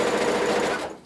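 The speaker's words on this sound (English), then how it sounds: "Sew until you get to the center." A sewing machine stitches a blanket coat in one steady, close, continuous whir that tapers off near the end.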